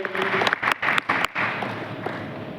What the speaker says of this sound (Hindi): जोरदार ताली हमारे ग्रेट लीडर्स के लिए होनी चाहिए।